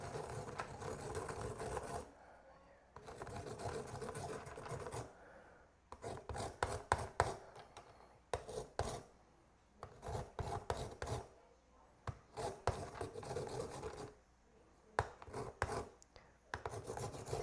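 Limes are being zested in a run of rapid rasping strokes, grouped in close bursts separated by short pauses and heard clearly up close.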